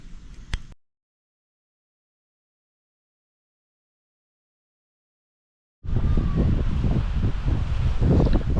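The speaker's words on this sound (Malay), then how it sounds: "Angin tetap padu lagi." Strong wind buffets the microphone on a shore by a jetty at low tide, in a brief gust at the start, then a long silence, then loud, steady roaring wind noise.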